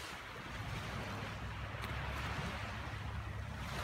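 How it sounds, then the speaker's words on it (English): Waves wash steadily onto the Lake Superior shoreline at a beach in Marquette, Michigan, a constant broadband surf roar mixed with wind noise on the microphone, with no voices. "You can see and hear the waves on the shoreline here."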